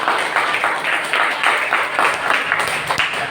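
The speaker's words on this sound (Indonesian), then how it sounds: "tepuk tangan untuk jawaban yang benar" Classroom applause from students rewarding a correct answer in an Indonesian school lesson, a steady patter of many hands clapping at moderate loudness, with faint voices mixed in.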